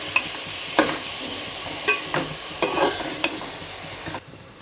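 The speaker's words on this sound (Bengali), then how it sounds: "দিয়ে দেবো অল্প পরিমাণ মতো লবণ। ভালো করে নেড়ে চেড়ে নেব।" A spoon scrapes and knocks against a pan as salted food is stirred over a steady background sizzle, with several distinct clinks spaced irregularly before the frying sound cuts off.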